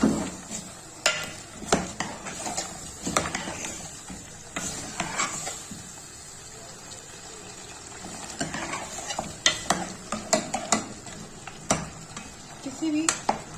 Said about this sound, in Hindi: अब हम इसकी भुनाई करेंगे 15 से 20 मिनट।